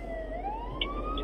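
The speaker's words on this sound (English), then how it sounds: "Take a moment of sirens." A fire truck siren wails in the distance, its pitch slowly rising in a long sweep, heard alone over a low background hum.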